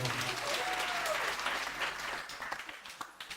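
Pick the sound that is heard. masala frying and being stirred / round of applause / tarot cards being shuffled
round of applause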